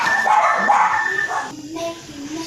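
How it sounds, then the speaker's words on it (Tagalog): Dogs bark and yip noisily nearby at a New Year's gathering in short overlapping bursts, with other voices mixed in. "ang ingay ng mga aso"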